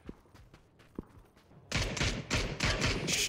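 Gunshots in PUBG during a tournament match: a few isolated distant shots, then a loud rapid volley of close gunfire through the second half.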